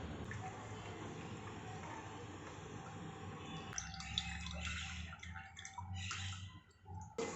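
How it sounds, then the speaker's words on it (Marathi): Faint splashing and trickling of water being poured off cooked lentils, starting partway through, over a low steady background hum. "याच्यावरचं जे पाणी आहे ते आपण ओतून काढून घेऊयात"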